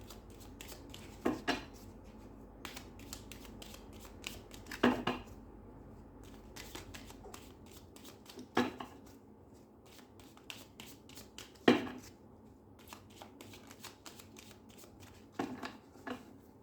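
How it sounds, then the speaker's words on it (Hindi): Tarot cards are shuffled and drawn in repeated soft riffling bursts, with a sharper snap and flick every few seconds as a card is pulled, close and quiet, with no talking. "इसमें से एक कार्ड निकालती हूँ"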